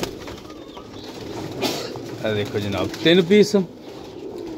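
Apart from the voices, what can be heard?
pigeons cooing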